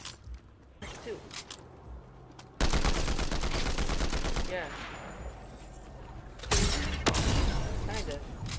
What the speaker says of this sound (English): this gun shoots, it's like a SMG and an AR combined